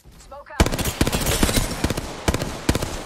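Rapid automatic gunfire in a shooter video game, loud bursts of sharp cracks in quick rhythmic volleys, with a brief voice at the start before the shots.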